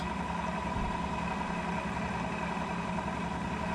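A milling machine cuts a part for a sine vise at low spindle speed under a firm feed, giving a steady, continuous mechanical drone with a constant hum, close and unbroken throughout.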